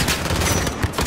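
Gunfire in the video game Modern Warfare crackles in a short, loud, rapid volley of close shots.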